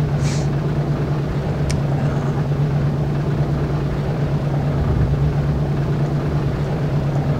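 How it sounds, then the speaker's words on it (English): Steady, continuous drone of B-17 bomber engines in a flight video game as a formation descends to lower altitude, a low sustained hum that runs unbroken throughout. "The engines always sound very, very clattery once you drop down."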